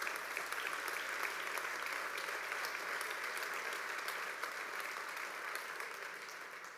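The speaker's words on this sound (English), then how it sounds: "So let's give a round of applause again for their service." An audience at an awards celebration breaks into sustained applause, a dense, even wash of clapping from a crowd in a hall that holds steady and then begins to taper at the end.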